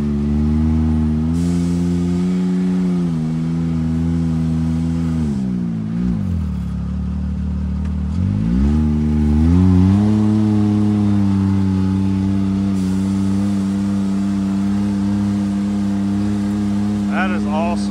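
A side-by-side UTV engine droning steadily while reversing in diff lock, its harmonic hum dipping and rising as the throttle eases and picks back up, loud and close.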